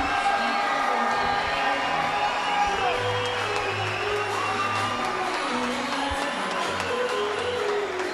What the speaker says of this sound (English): the crowd is alive here in Melrose, Massachusetts. Standing ovation for both men.